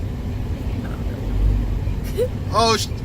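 Steady low rumble inside a moving car, with road and engine noise throughout and a brief tonal squeak near the end. Voices talk over it.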